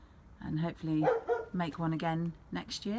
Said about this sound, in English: That's my dog. He knows I'm home.